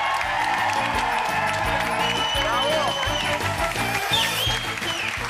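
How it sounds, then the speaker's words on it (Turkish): A studio audience at a New Year's special TV show applauds Demet, Okan, Özlem and Berkay: dense, steady clapping and cheering that carries on for several seconds, mixed with loud music with a thumping beat. "Sevgili seyirciler, Demet ve Okan'a, Özlem ve Berkay'a çok büyük alkış."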